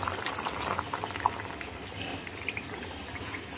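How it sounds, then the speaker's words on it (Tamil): Water is added to a simmering pot of spicy duck curry gravy, a steady bubbling, sloshing wash of liquid filling the pot at close range with no talk. "தேவையான அளவு தண்ணி சேர்த்துக்கலாம்."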